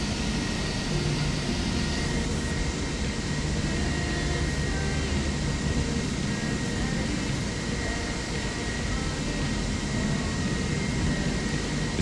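A Boeing 777 in the Microsoft Flight Simulator 2024 game gives a steady, even jet engine drone, moderately quiet and unchanging throughout.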